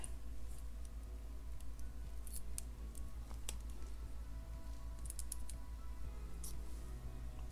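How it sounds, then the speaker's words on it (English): Small scissors or wire cutters snip excess beading wire from a glass and sea sediment jasper bead necklace, giving a few sharp, close clicks and snips over a low steady hum. "I'm going to go ahead and snip off the excess"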